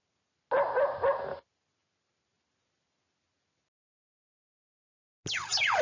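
A robot dog barks in a short burst of two or three quick, clipped yaps, then silence, then another bark-like cry with sliding tones cutting in at the end.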